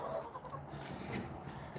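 Hens and roosters cluck softly in a backyard flock of about twenty-six hens, a low murmur of fowl under steady outdoor noise.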